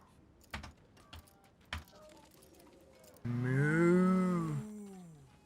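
A cow in the Diablo 4 video game moos once, a long, loud, near bellow that rises and falls, following a few faint clicks and soft game ambience.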